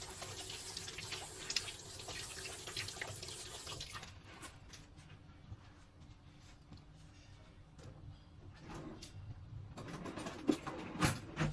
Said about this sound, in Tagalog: Hugasin ko na yung kamay ko, pero hugasan muna natin ulit guys para hindi siya sticky sa ating kamay.